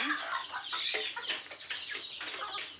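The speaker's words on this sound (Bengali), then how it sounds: "14টি বাচ্চা, একজন মা মুরগি।" A mother hen and her fourteen chicks cluck and cheep steadily at close range, a dense overlapping chatter of high peeps and soft hen clucks with no talk.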